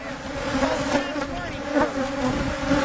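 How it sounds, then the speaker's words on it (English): Honeybees buzz loudly at commercial hives during an inspection in Massachusetts, a close, dense, wavering drone with shifting pitch that runs steadily throughout. "This is our 4th day out with Dee, looking at her bees."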